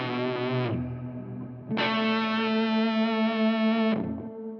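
A guitar chord rings through a drenched reverb pedal on a Silvertone Paul Stanley Sovereign rig, two long sustained distorted strums that swell and hang, loud and alone.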